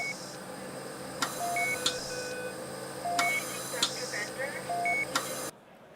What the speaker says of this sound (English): So if you think of an intensive care unit, for example, it would sound like this.